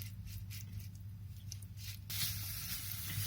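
Boneless chicken cooking uncovered in a pan and releasing its water, a soft continuous sizzle and bubbling that grows a bit louder partway through, with no talking.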